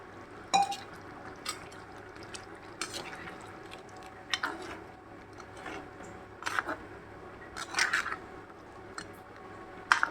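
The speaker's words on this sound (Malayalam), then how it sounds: "തേങ്ങാപ്പാൽ ഒഴിച്ച് തരും." Coconut milk poured into a simmering tuna fish curry in a pan, with liquid splashes and pot clatter in irregular bursts, close and moderately loud, no talking.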